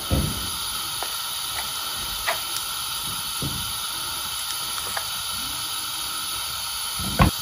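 Butter melts in a hot pan (kawali), giving a continuous loud hiss and sizzle with a few scattered sharp pops and spits along the way.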